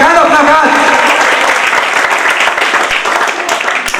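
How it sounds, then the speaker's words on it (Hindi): Loud applause from an audience at a public event in Darbhanga, dense clapping over voices that sound like shouting or cheering, steady through about four seconds. "और संदीप नाथ के लिए जोरदार तालियां।"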